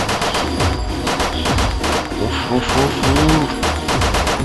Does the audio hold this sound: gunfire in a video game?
yes